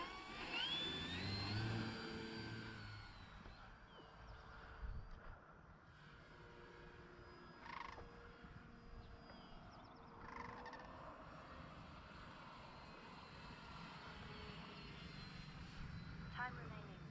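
An E-flite Draco RC airplane flying over a field, its electric motor a steady whine that swells and fades as it passes, with someone talking throughout.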